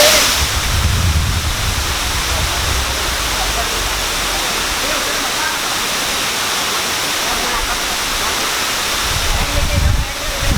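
Steady, loud roar of rushing water pouring over the Powai Dam waterfall in Mumbai, a dense unbroken wash of white noise for the whole stretch with no talking.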